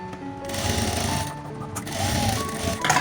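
A domestic sewing machine double-stitches a decorative shela stole for a Ganpati idol, running in a loud, close, continuous whir with a brief pause midway.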